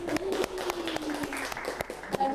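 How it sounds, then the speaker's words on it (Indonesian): An audience at an Indonesian chat show claps in a short, scattered burst of sharp individual hand claps, fairly close and moderately loud, with no voices over it. "Boleh tepuk tangan ya semuanya."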